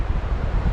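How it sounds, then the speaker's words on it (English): An easterly wind gusts across a beach estuary, buffeting the microphone with a loud, low rumbling roar over a brief stretch, and no one speaks. "It's blowing easterly, 20-mile-an-hour gust."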